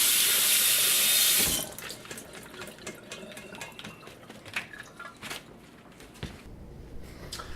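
Water runs from a kitchen tap while leeks are washed; a loud steady gush at the start gives way to quieter splashing and scattered handling knocks.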